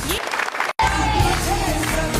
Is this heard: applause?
yes